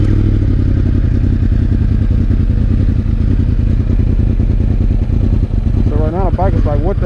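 A Yamaha R1M motorcycle running on E85 sputters and surges low on fuel, a loud uneven pulsing engine close by, with a voice over it toward the end.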